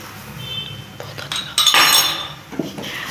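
A spoon clinks and scrapes against a metal pot while sugar is stirred into browned, roasted semolina for suji halwa, with irregular clattering strokes and a louder burst of scraping midway.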